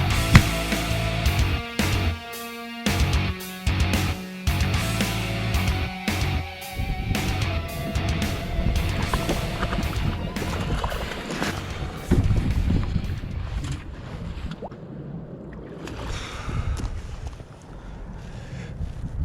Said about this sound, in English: We got some weather moving in on us. The wind's blowing me around.